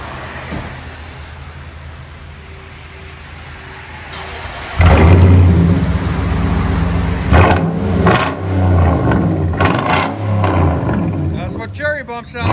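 A Japanese V8 rumbles through its muffler and 4-inch double-walled stainless steel tips. A quiet idle gives way to a sudden loud roar and repeated revs, with a voice talking over it.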